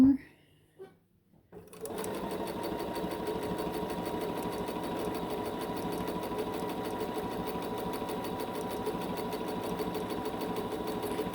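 Sewing machine stitching a bag, running steadily and loudly for about ten seconds after a brief quiet start with a few soft handling sounds.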